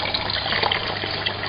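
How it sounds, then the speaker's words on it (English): A pump pushes dark cooling water from a copper reflux condenser's outlet into a bucket, making a steady, close, continuous gushing pour with no break. "I'm just putting it in a bucket, pumping all the water, dark water, into the bucket"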